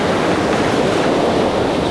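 Heavy shore break at an ocean beach gives a loud, continuous roar of surf and white water close by, with steady rushing noise and no voices.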